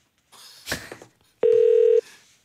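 After a brief rustle, a telephone dialing beep sounds once, a loud steady tone lasting about half a second.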